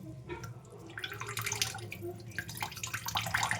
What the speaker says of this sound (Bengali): এখনও জল আছে পনির মধ্যে তাই জলটাকে চেপে চেপে নিচ্ছি